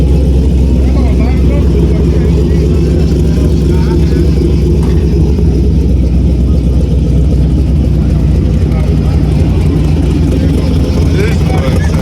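An LS3-swapped 1975 Caprice convertible runs with a steady, heavy low rumble that stays loud and close throughout, with voices talking over it.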